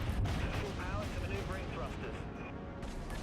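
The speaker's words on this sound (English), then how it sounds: "Switching to flak whenever I'm able." Repeated booming bursts of flak cannon fire from a Monarch-class ship in the naval combat game Dreadnought, dense and rumbling for several seconds, with someone speaking over the shots.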